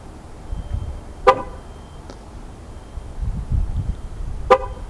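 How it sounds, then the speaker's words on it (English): Two short car horn chirps triggered from a remote key fob, one early and one near the end, with a quieter blip between, sounding close by over faint outdoor background. "Press it, hold it again, the vehicle will actually sound a horn."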